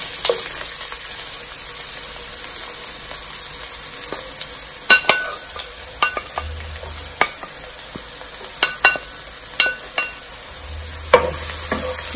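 Garlic fries steadily in a pan for a crab and coconut milk dish, a continuous close sizzle with occasional sharp crackles and pops and faint stirring clinks.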